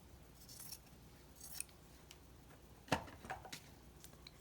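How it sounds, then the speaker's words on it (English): Scissors cut a Swiffer Sweeper dry sweeping cloth in a few quiet, sharp snips spaced over a few seconds in an otherwise still room during card crafting. "you can use the Swiffer Sweeper dry sweeping cloth and just cut a piece of that off"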